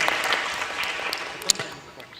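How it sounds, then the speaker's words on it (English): Conference audience applause, scattered clapping with a few sharp louder claps that thins out over two seconds. "That deserves a round of applause."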